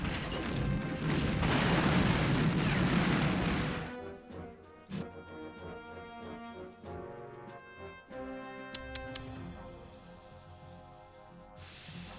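Artillery fire and explosions in a WWII strategy video game set during the Battle of Pruzana at the opening of Operation Barbarossa: a loud, rumbling blast roars for several seconds, then quieter scattered impacts and tonal game sounds follow.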